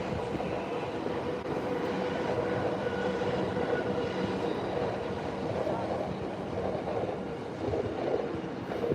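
Train rolling beneath Tokyo Station on the Yamanote line, a steady broadband rumble with faint clatter that holds at an even level throughout, heard from a high vantage point above the tracks.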